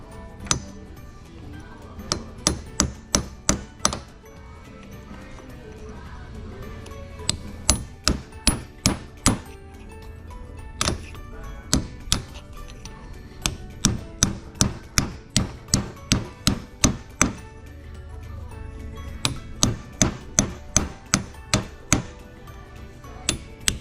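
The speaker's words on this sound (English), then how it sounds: "I found a hammer and a chisel. We're just going to chisel this guy out." Sharp metallic hammer strikes on a chisel cutting out a brass bushing from a marine engine raw water pump, coming in rapid bursts of several blows with short pauses between, close and ringing.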